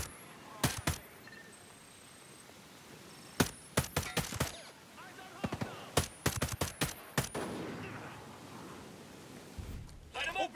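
Gunfire in the tactical shooter Ghost Recon Breakpoint, with rapid bursts and single sharp shots in irregular clusters, some close and loud, others softer, alongside brief radio-style voices.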